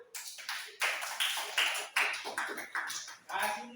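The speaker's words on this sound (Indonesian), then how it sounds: "Yuk, tepuk tangan." A handful of people clap in a room, about eight distinct, separated claps in a loose rhythm, close and fairly sharp, with faint voices in the background.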